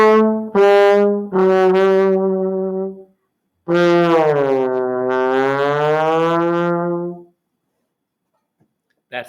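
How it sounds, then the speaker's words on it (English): A brassy solo trombone plays a few short notes and then one long, held, gently bending tone, followed by silence. "the most famous trombone solo you could ever imagine. It sounds like this."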